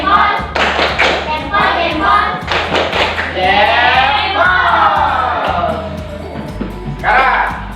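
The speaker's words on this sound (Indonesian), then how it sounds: "Kita beri tepuk jempol dulu untuk kita semua." A classroom group performing a rhythmic chant-and-clap routine, voices chanting together over a regular pattern of thumping claps, fairly loud and close.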